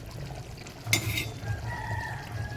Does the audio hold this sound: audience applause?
no